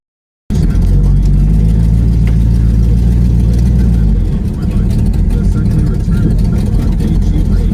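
A Mopar B-body car with a Magnum engine swap and upgraded Wilwood brakes drives along, its loud, steady mid-range engine drone close and continuous, dropping in tone midway as the car slows to a stop.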